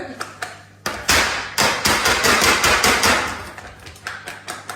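A Guy Demarle Cubicube silicone baking mold, filled and about to go into the oven, is shaken, giving a dense run of loud rattling, knocking clatter for a few seconds amid sharper taps before and after.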